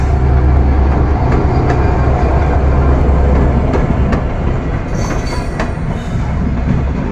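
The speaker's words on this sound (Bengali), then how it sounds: "জয়দেবপুর থেকে ছেড়ে যাচ্ছে ট্রেনটি রাজশাহীর উদ্দেশ্যে।" A train pulls out of Joydebpur station bound for Rajshahi, its loud, steady rumble and rattling wagons filling the whole stretch with faint clicks on top and no voices.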